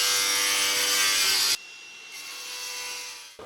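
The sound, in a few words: cutting slate roof tile for solar panel bracket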